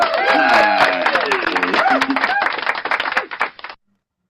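A church congregation applauds at a service, with rapid overlapping hand claps and voices calling out over them. The clapping thins into scattered claps and then stops.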